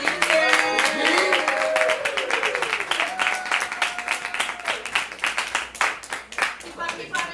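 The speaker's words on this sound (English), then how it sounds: "Keep clapping, keep clapping." Applause from a poetry event audience, with broadband clapping that thins into scattered claps toward the end while music or tones play underneath.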